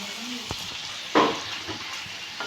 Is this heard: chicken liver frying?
yes